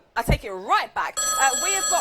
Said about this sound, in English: But the phone's ringing.